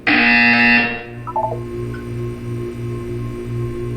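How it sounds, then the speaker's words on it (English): A loud, harsh video game buzzer blares for about a second, then cuts off, leaving a low pulsing hum with a few faint electronic blips. "You will hear a buzzer."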